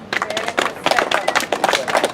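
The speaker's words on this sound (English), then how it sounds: "Please, round of applause for Philip." A tour group on a walking tour in Madrid claps, with a short burst of scattered, fairly close hand claps from a small crowd.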